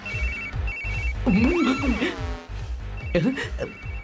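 A repeating electronic phone ringtone beeps in short bursts in a Hindi-dubbed action film scene while a person speaks over it, nearby and clear.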